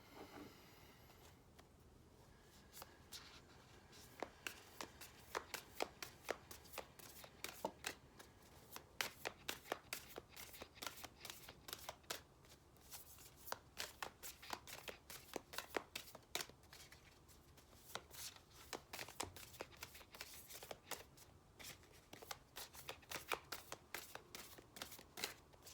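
Goddesses, Gods, and Guardians Oracle cards being shuffled by hand, a steady run of soft riffling flicks and slaps repeating close up for the whole stretch, with no talking.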